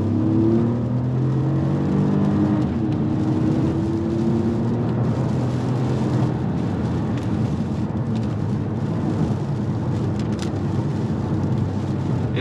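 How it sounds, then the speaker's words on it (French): Three-cylinder engine of a 2024 BMW 1 Series, amplified through the car's audio system, holds a steady low drone from inside the cabin while driving slowly, with a rising tone at the start and continuous road rumble underneath. "un bruit moteur qui est nettement amplifié par l'installation audio"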